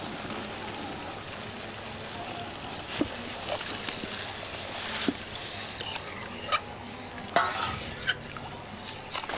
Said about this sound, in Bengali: এবার এর মধ্যে দিয়ে দেব নারকেলের দুধ